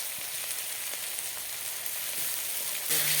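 Spice paste of turmeric powder and ginger sautés in a pan for a fish curry, giving a steady, close sizzle and fry that swells a little louder near the end.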